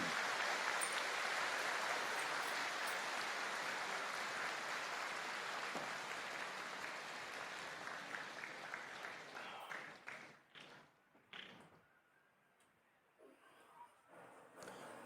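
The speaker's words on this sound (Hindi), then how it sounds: "तो सभी लोग अपने अपने पितरों के लिए एक बार जोरदार तालियां बजा दें" Crowd at a spiritual gathering breaking into dense, sustained applause that holds steady, then thins into scattered claps and fades out near the end.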